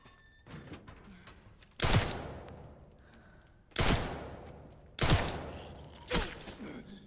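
Gunfire from the Resident Evil Requiem video game, with four sharp, loud shots spaced a second or two apart, each ringing out briefly over faint game ambience.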